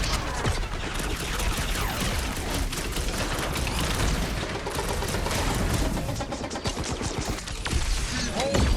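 Dense, continuous gunfire from a Guardians of the Galaxy battle, with rapid bursts and booms running nonstop at close range and brief voices mixed in.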